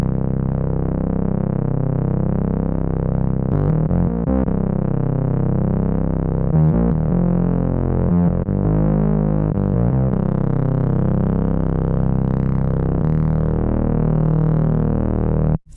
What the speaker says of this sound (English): I've got 2 oscillators, both saw, oscillator 1 and 2, going into the analog filter.